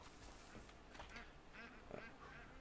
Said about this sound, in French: Les canards.